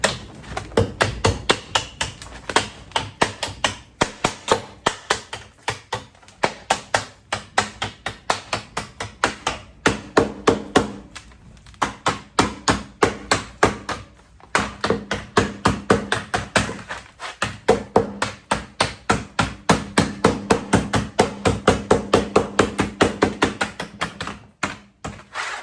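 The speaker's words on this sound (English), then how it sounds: "Got the heavy hammer rather than the mallet. It just seemed to move the sheet metal that much easier." A heavy hammer pounds sheet metal held over an edge while a pool pump motor cover is being built, giving a long, loud run of rapid, evenly spaced metallic strikes with only brief pauses.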